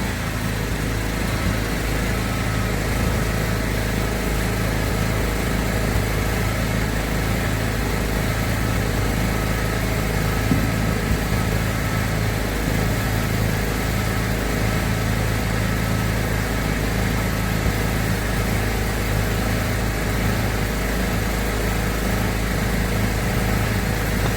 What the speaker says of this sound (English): Okay, generator's on